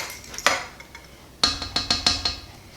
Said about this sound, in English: I'm trying to get all the goody stuff off of the whisk here